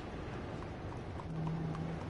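Horse hooves clip-clop steadily at a walking pace in the Red Dead Redemption II video game, moderately near, with a faint low hum underneath and no talking.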